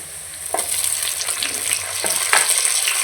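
Chopped tomatoes going into browned frying onions for a soybean and egg curry: a loud, steady sizzle with repeated stirring scrapes of a spatula in the pan, no voices.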